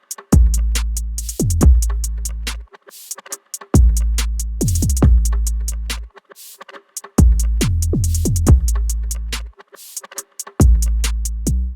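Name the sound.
mixed beat drum section with 808 and kick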